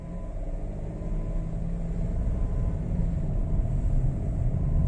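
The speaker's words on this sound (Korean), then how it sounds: "저기에서 잠깐 정지했다가 출발할 때 엔진 소리가 어떻게 나는지" A Suzuki Hustler kei car's small engine hums steadily at low pitch, rising slightly in loudness as it pulls away in first gear, with a constant rumbling drone throughout.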